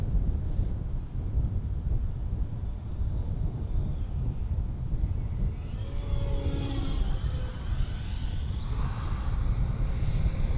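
An FMS BAE Hawk 80mm EDF model jet in Red Arrows livery makes a slow, clean pass down the runway in a strong crosswind. Steady wind roar dominates, and a faint ducted-fan whine rises midway.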